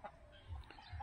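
Soft, low clucking from a couple of chickens, brief and fairly faint, heard against a quiet background.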